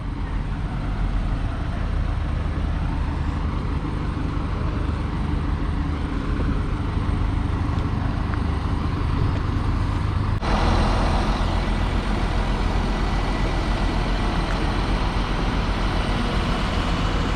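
Buses idle and pull away at Batam Centre ferry port, a heavy continuous diesel rumble with broad road and engine noise that swells slightly partway through, with no talking.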